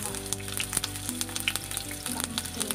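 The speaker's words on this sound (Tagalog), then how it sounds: "Igigisa na natin yung ating sibuyas." Onion sautéing in a pan for Filipino sweet and sour meatballs, a close, steady sizzle with crackling pops and a hum in the background.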